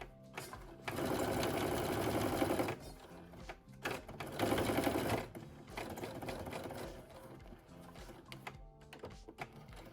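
A sewing machine top stitches a denim jacket pocket in close, steady whirring runs of fast needle strokes, broken by short pauses between bursts.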